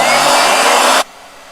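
A hair dryer blows with a loud, steady broadband rush at close range, then cuts off abruptly about one second in, leaving quiet room tone.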